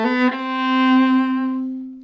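A single bowed string note played legato, one octave below middle C, sustained smoothly for about two seconds with a rich harmonic tone, swelling slightly before easing off, heard alone and close.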